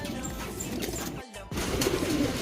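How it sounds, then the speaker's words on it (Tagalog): Racing pigeons cooing near at hand amid a soft background murmur, the low calls broken by a brief pause. "Kukunin natin yung mga ibon natin na isasakay sa PUF mga kalonger."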